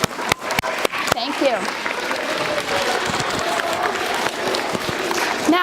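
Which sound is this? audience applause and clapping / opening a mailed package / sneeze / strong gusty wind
audience applause and clapping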